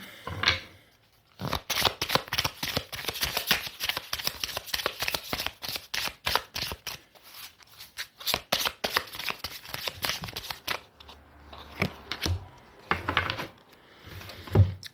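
Tarot cards are shuffled by hand in rapid bursts of crisp riffling and slapping, close and loud, pausing briefly midway and near the end, with no talking.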